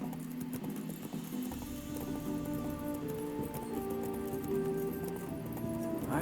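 A horse's hooves clop along at a trot in The Witcher 3: Wild Hunt, over a continuous low drone of ambient music, moderately quiet and steady throughout.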